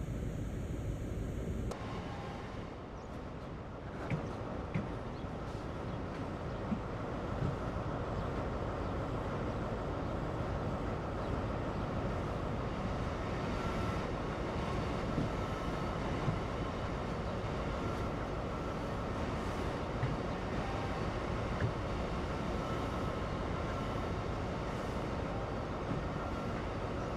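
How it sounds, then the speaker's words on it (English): A Class 43 HST train in Train Sim World rumbles steadily as it slows to a gradual stop, with a constant low mechanical drone and faint brake hiss, moderately quiet and even throughout. "bring the train to a gradual stop"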